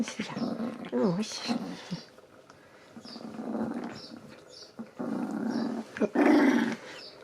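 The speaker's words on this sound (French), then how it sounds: "il faut arrêter que les gens s'impressionnent toujours d'un chien qui grogne" A pet dog growling in uneven bursts close by, with low rumbles and whiny rises, while a person talks softly over and between them.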